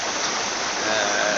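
A stream of water rushes down beside a gold sluicing site, a steady dense hiss and splash, loud and close with no voices.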